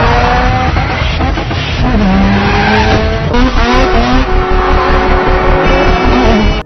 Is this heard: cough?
no